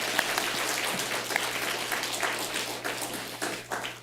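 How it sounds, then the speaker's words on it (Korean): A church congregation applauds its youth group for a steady four seconds, a dense even wash of clapping from many hands in a large room that thins slightly toward the end. "우리 다시 한 번 더 박수하겠습니다"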